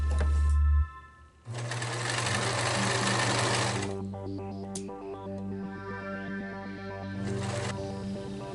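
Sewing machine hemming the folded edges of a tight blue dress, running in steady whirring bursts with short pauses between stitching runs, close and fairly loud.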